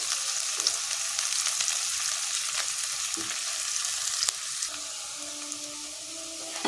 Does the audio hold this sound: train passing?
no